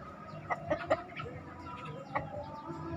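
Short clucking calls from a Black Bull breeding rooster, a few bursts close together near the start and one more later, over a low background hum.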